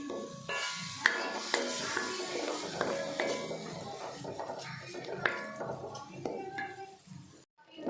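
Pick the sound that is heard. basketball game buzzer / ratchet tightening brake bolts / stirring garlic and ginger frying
stirring garlic and ginger frying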